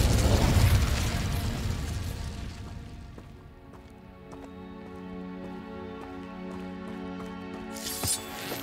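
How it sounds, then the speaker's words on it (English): Incendio fire spell cast in the Hogwarts Legacy video game, a loud whooshing burst of flame that flares up at once and then fades into a low crackling rumble, with a lingering tonal hum afterward. "Incendio."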